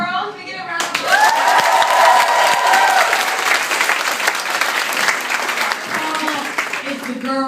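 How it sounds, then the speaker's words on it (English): An audience breaks into loud applause, close and dense, with some cheering rising over the clapping before it tapers toward the end. "Can we get a round of applause?"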